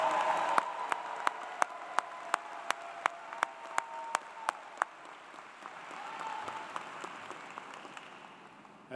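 Graduation ceremony audience applauds new master's degree recipients, a broad crowd clapping with crisp regular claps early that thin out and fade into a softer murmuring crowd toward the end.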